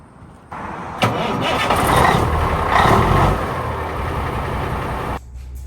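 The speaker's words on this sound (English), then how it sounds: "I just heard Optimus crank up" A truck engine cranks and catches, then settles into a loud, steady running rumble close by, cutting off near the end.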